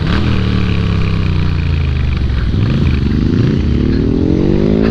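A Moto Guzzi V7 motorcycle rides along twisty roads, its engine loud and close with a continuous throbbing drone that rises in pitch as it accelerates near the end, with wind noise over it.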